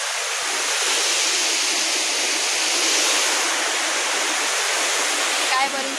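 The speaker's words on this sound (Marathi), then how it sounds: "सो पळया गायज वॉटरफॉल आमचो।" A waterfall roars continuously with a dense, steady broadband rush, loud and close throughout, with no clear speech over it.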